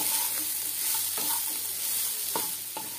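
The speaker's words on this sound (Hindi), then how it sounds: "अब इसमें बीन और गाजर डाल देते हैं, इसको भी थोड़ी देर के लिए भून लेते हैं।" Onion, beans and carrot stir-frying for veg spring rolls, a continuous close sizzle broken by several quick scraping stirs of a spatula against the pan, with no talking.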